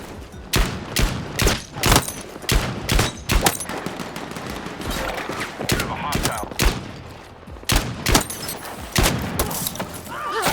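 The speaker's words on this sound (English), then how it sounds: "Definitely use the revolver." Rapid revolver gunfire in the Battlefield 6 REDSEC battle royale game, loud sharp shots in quick clusters with brief pauses between volleys, close and punchy.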